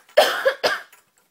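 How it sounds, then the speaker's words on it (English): An adult woman coughs twice in quick succession, close and fairly loud, at home with a baby nearby, with silence after. "Mommy keeps coughing."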